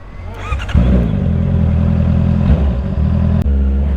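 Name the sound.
Renault Clio engine revving with new exhaust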